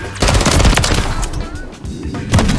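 Sharp video game gunfire from a shooter match, a loud crack of a sniper rifle shot among rapid bursts of other weapons, dense and close, with a second heavy report near the end.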